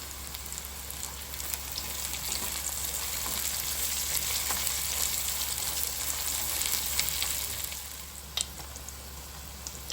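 Steady sizzling of ginger-garlic paste and green chillies frying in a pan for Andhra-style prawn fry, a continuous crackling hiss with no talking.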